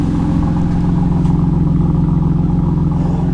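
A Honda Accord fitted with a Megan Racing test pipe idles with a steady, deep, throbbing exhaust rumble, loud and close, without voices.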